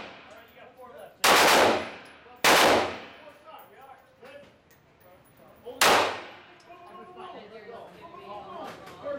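Glock 19 9mm pistol fired at an indoor shooting range in Las Vegas, three loud, sharp close shots spaced irregularly, with people talking between them.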